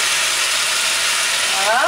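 Water poured into sauerkraut in a hot pan sets off a loud, continuous hiss of steam and sizzle right up close, with a faint rising tone creeping in near the end.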